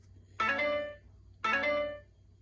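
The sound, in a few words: phone ringtone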